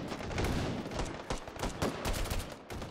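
Dense, rapid bursts of gunfire rattle continuously and loudly from enemies shooting at the player in the VR shooter Hot Dogs, Horseshoes & Hand Grenades.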